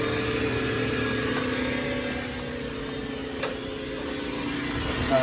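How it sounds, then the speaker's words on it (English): A Renault Zoe ZE50 R135 electric motor spins after a failure repair, giving a steady close hum with layered whining tones that holds evenly throughout, with one brief click midway and no voices. "the motor is spinning"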